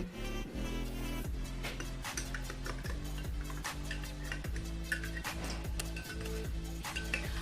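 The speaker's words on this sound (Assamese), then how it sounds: "হালধিটো ভালকে মিহলাই দিব লাগিব" A metal spoon stirs turmeric into water in a container, clinking and scraping against the sides in quick repeated strokes, close and clear with no talking.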